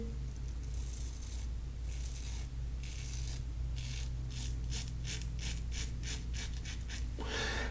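An Edwin Jagger DE89 safety razor cuts through a week of stubble in a series of close, crisp rasping strokes, speeding into a quick regular rhythm of short scrapes near the end.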